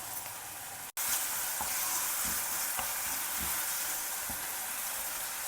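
Tomatoes frying in a pan give a steady, close sizzle that continues unbroken after a brief cut near the start, with faint stirring clicks.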